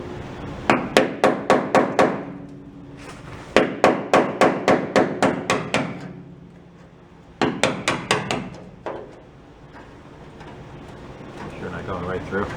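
A hammer taps on the rusty sheet metal of a 1965 Ford Econoline pickup, striking in quick bursts of sharp, ringing knocks with short pauses between the groups.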